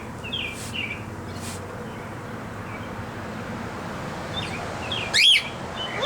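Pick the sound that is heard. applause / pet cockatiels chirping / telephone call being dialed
pet cockatiels chirping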